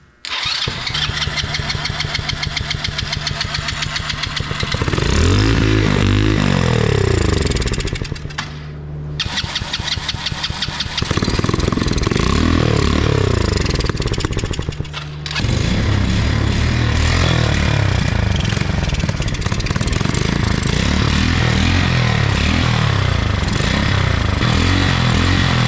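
Mini dune buggy engine cranking and starting, then running loud and close with a buzzy drone that rises and falls, cutting out briefly twice before catching again and running on.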